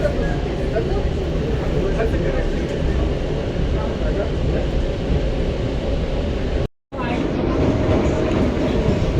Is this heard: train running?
yes